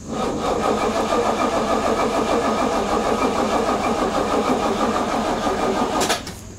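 A 1969 Pontiac Firebird 400 V8 with fouled plugs and a run-down battery cranks in a steady, rhythmic churn for about six seconds before catching, close and loud, with no talking.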